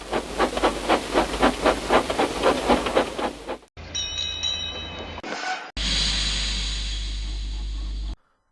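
A cartoon steam engine pulls into a railway yard, with a rhythmic chuffing of puffs followed by hissing steam and a squealing brake, all close and fairly loud with no voices.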